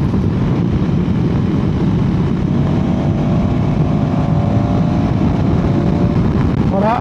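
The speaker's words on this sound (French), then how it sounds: "Donc quand tu viens pousser dans les tours, le moteur, il est rageux" A 2025 KTM 390 Adventure R, 45 horsepower, accelerating hard out of a tight bend: steady, loud engine drone heard continuously from onboard, with a rising tone toward the end and no talking.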